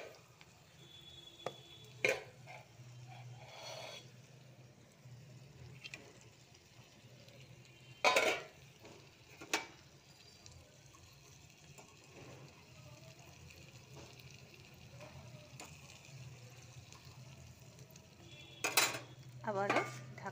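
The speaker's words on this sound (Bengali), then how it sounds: "এবারে দিয়ে দিচ্ছি আলুগুলো।" Potatoes are tipped into a cooking pan and stirred, bringing scattered clanks and scrapes of utensils against the pan over a low steady hum, with faint voices in the background.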